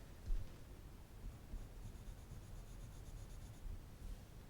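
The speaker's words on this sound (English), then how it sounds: "when you want to color with colored pencil" A colored pencil colours a chestnut illustration on a book page: a close, continuous soft scratching and rubbing of the lead across paper, steady and quiet with small strokes throughout.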